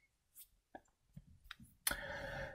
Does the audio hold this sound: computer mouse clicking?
yes